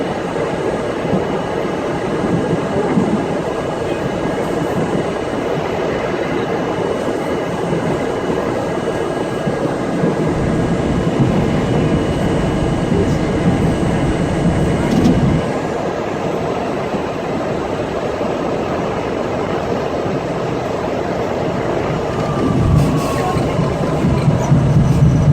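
R32 subway cars of a JFK/Rockaway-bound A train rolling along the rails, a steady loud rumble with faint clacks and a brief screech near the end, heard close and continuous with no talk.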